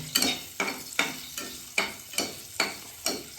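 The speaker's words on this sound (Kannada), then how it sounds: "ಒಗ್ಗರಣೆ" Sizzling bursts of spices hitting hot oil, repeating in a steady rhythm about every half second, close and moderately loud.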